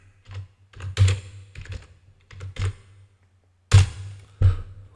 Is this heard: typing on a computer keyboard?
yes